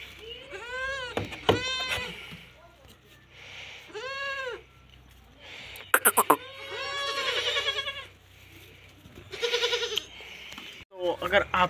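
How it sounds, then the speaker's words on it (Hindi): Baby goats bleat repeatedly at close range, each call a wavering cry with pauses between, while someone speaks Hindi in between and over some of them. "इधर हमारे जो है कुछ छोटे छोटे बकरियों के बेबीज"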